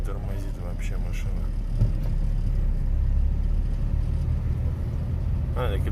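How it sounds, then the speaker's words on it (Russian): Car engine running during a snowstorm with strong wind, a continuous low rumble and roar throughout, with a voice talking over it at the start and end. "Машина."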